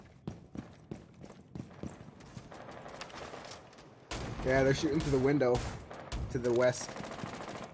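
Repeated gunshots ring out in a video game firefight as shots come through a window, sharp cracks of varying loudness, with a louder, denser stretch partway through while players talk over the action.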